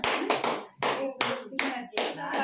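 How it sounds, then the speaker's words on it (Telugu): Several people clap hands at a family birthday and wedding anniversary celebration at home, a close, loud burst of bright claps in uneven bunches with short pauses between them. "క్లాప్స్ కొట్టరా?"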